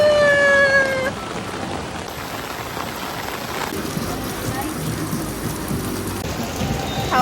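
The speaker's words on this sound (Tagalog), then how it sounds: "It's raining so hard!" Heavy rain pours steadily in a dense, loud hiss outdoors, with a brief high whistle-like tone early on and no clear speech.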